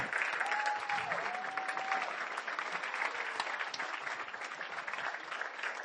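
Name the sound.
audience applause at a school annual day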